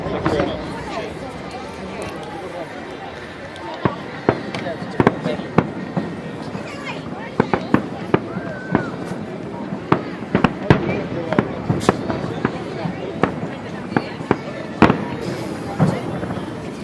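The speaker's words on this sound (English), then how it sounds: "What a bunch of happy fireworks." Fireworks bursting in an outdoor Fourth of July show in Washington, DC, with sharp irregular bangs and crackles at moderate distance over a steady crowd murmur, with people chatting nearby.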